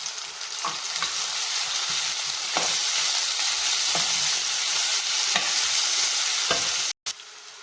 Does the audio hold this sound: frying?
yes